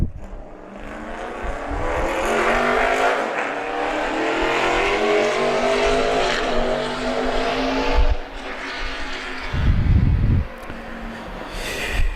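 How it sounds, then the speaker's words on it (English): Kevin Harvick's number 4 Stewart-Haas Racing Chevrolet NASCAR Sprint Cup car lapping New Hampshire Motor Speedway in 2014 testing, a loud sustained engine roar sweeping past with a sharp surge near the end. "Kevin Harvick in the number 4 Stewart-Haas Racing Chevrolet"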